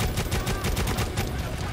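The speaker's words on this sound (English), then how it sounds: "What the fuck is shooting there at me?" Dense automatic gunfire in the Necromunda: Hired Gun video game, rapid overlapping shots and bursts filling the whole stretch at a steady loud level with no pauses.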